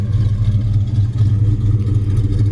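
A 1970 Plymouth Road Runner with an aftermarket cam idles close by, a loud, deep, lumpy rumble with a steady loping rhythm and no voices.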